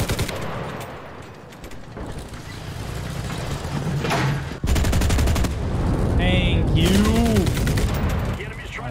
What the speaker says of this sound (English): Whoa, wow, that was a tank.